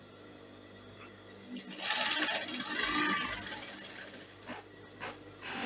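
A sewing machine stitches seams on a side-ruched gown dress, its mechanical whir and rapid needle clatter swelling loudly for a few seconds in the middle, then tapering into quieter ticks and brief clicks.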